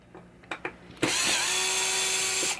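A power screwdriver backing screws out of a 1967 Williams Blast Off pinball machine: a few faint taps, then a loud, steady close whine of the motor running for over a second before it cuts off.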